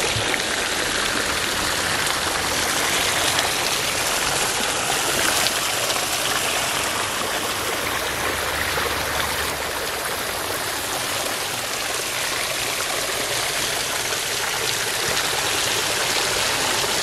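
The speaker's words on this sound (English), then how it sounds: "Hey, everything's bubbling." Bubbling water in a resort hot spring pool at Pagosa, Colorado, makes a steady, dense rushing and fizzing wash like a stream or rain, loud and unbroken throughout with no voices.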